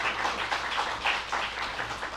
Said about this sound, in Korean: 두 분을 모실 때 우리 박수 한번 해주시죠.